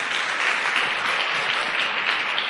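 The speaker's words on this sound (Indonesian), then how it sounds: "Tepuk tangan buat One Vision." Dense, steady applause from an audience at a business motivational seminar, loud and continuous for the whole stretch with no talk over it.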